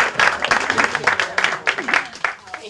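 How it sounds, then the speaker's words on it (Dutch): Audience applause for a child named Noora at a Den Haag neighbourhood learning event, with bursts of clapping rising and falling over about three seconds and voices mixed in underneath. "Applaus voor Noora."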